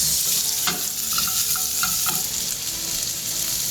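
Onion cooking in a pan gives a steady close sizzle and fry hiss, with a few faint stirring clinks, and no talking.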